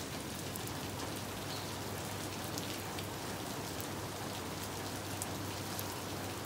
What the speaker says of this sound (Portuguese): Só o barulhinho da chuva.